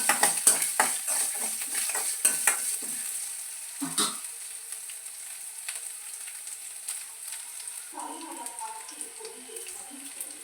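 Chayote and potato sauté with salt and curry leaves in a pan, with rapid scraping stirs and clinks at first, then a quieter hiss, and a brief voice near the end.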